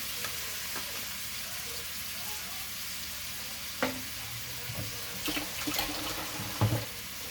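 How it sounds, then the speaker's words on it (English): Celery and onions sauté in a pan, a soft continuous sizzle with scattered light clinks and stirring clatter growing busier toward the end. "You just want to saute them for a few minutes"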